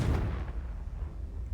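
A Confringo spell explosion in a video game bursts with a heavy low boom at the onset, then rumbles and decays over about a second and a half, loud and close with no voices.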